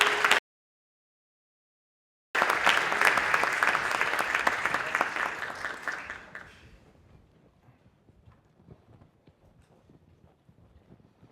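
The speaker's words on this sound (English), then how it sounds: "let's go ahead and give them a warm round of applause as they make their way to the stage" Audience applause at a Duke University energy conference panel as panelists walk onto the stage, a loud sustained round of clapping that starts abruptly after a brief silence, then fades to quiet room noise with soft footsteps.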